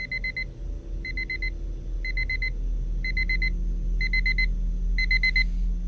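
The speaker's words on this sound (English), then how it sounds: "Oh, alarm clock." An in-game alarm clock in Redwood Lake Incident rings in six evenly spaced bursts of rapid electronic beeps, about one per second, over a low steady hum.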